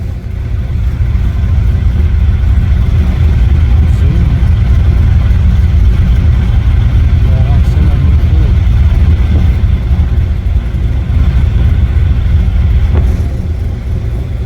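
A 1996 Camaro with a cammed, rebuilt LT1 V8 and a repaired exhaust cutout drives along, its deep, loud engine rumble steady and close from inside the car with no talk.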